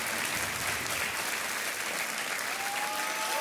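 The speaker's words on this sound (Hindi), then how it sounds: "और सबसे जोर से जो ताली बजा रहे हैं वो आपके पतिदेव हैं" A game show studio audience applauds, giving dense, even clapping that stays loud and steady throughout, with no voices over it.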